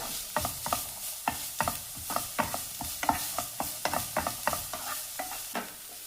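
Chopped onions sauté in a pan while cooking an omelette base, with steady rhythmic spatula strokes scraping the pan over a light sizzle, close and without talk.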